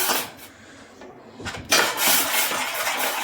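Potato mixture poured into a pot of hot water for a potato cheese soup, giving a broad, close scraping and splashing rush that builds after a brief lull and continues steadily.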